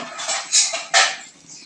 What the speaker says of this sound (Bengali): ঢাকনা দিয়ে ঢেকে দিতে হবে